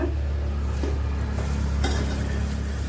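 Bitter gourd sautéing in a pan, a steady soft sizzle with a few scraping stirs of a utensil, close and continuous, no talk.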